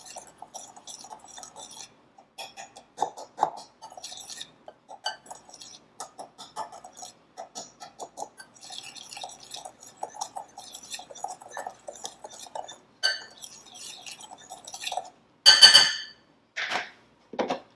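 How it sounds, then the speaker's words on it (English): A whisk rattles lightly and quickly against a bowl while stirring baking powder and salt together, producing faint, rhythmic metallic ticks and clinks, with a few louder scrapes and taps toward the end. "I'm going to go ahead and just whisk these together"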